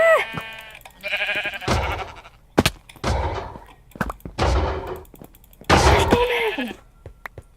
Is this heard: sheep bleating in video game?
yes